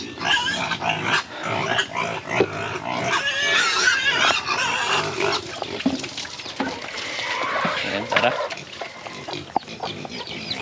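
A black piglet grunts and squeals in short, busy bursts, close by, with a few brief spoken words mixed in, in a backyard farm.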